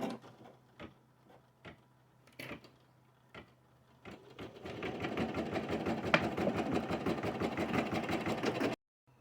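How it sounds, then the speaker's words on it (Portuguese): An embroidery machine with a 13x18 hoop stitching a placement outline: a few isolated clicks and taps at first, then a fast, steady mechanical chatter of stitching that runs for several seconds and stops abruptly. "A máquina vai fazer pra mim a marcação."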